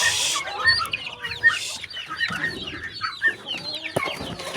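Hens cluck and call in a coop, several birds close by giving repeated short clucks and squawks in an irregular chorus, with no talk over them.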